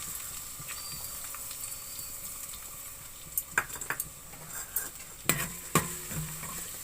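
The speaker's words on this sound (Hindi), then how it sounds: "अब इसको थोड़ी देर मैं भून लूँगी।" Chopped garlic frying in hot cooking oil in a pan: a continuous bright sizzle, then several louder scrapes and clinks of a stirring spoon against the pan, without talk.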